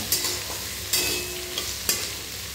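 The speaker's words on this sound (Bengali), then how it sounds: "তো এটা এভাবে আমি নাড়িয়ে চাড়িয়ে ভেজে নেব" Chopped onion and tomato frying for ghugni, with a low sizzle underneath and about four distinct scraping stirs of a spoon through the pan, close up and without speech.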